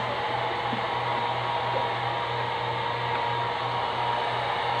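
An electric hair blow dryer runs steadily at close range, a loud continuous whoosh with a low motor hum, alone with no talking.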